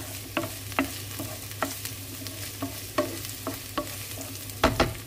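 Rapeseed oil sizzles steadily in a pan while a ladle stirs and scrapes it in a regular rhythm, with clinks close to the mic and no talking.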